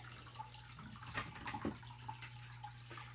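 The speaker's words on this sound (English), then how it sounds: "And then we'll put more water in." Water pouring steadily into a planted aquarium during tank maintenance, a faint continuous splashing and trickling with a low steady hum underneath and no talking.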